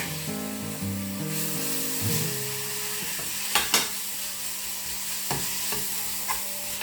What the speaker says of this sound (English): So we're frying it.